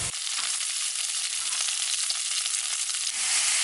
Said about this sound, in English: I'm making another stir fry with the shishijo peppers,